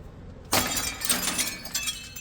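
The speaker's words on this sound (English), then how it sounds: "I think he's about to run that sledgehammer through the glass." Window glass shattering under a sledgehammer during renovation work in an old building being gutted: a sudden loud crash followed by a second and third burst of breaking, tinkling glass, close and with no talk.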